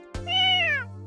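A cat in the Café Stella video game gives a single clear, drawn-out meow, close and loud, rising then falling over a steady low background hum.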